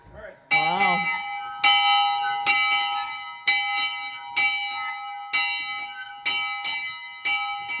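Church bells ring loud and close in historic Roseberry, Idaho, a steady series of heavy strikes about once a second, each leaving a bright, humming ring.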